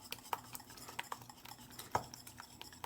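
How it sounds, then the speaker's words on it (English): A whisk beats warm cream into eggs for white chocolate raspberry ice cream, clinking lightly and irregularly against the bowl with soft, faint stirring in between. "I'm going to slowly add it to these eggs here as I continue to whisk."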